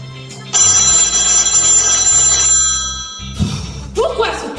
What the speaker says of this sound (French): Pourquoi ce téléphone sonne-t-il à chaque fois que j'attache ma fille à son lit?